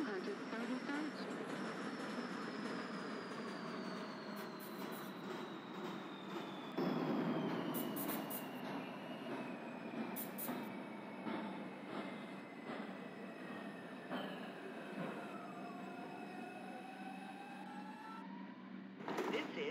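An R142 subway train on the 2 line runs in the OpenBVE train simulator, its steady rumble and rail noise carrying throughout with long rising and falling wheel squeals, while a recorded announcement voice speaks over it.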